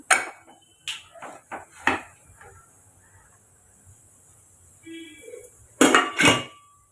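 A few sharp metallic clanks of a pressure cooker lid being handled and opened after cooking chicken gravy, then a short hiss and louder clatter at the end, no talking.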